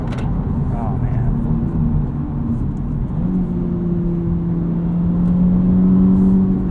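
A 2023 Honda Civic Type R driving, heard from inside the cabin as a loud steady engine drone and road roar rising in pitch as it accelerates, with a voice speaking over it.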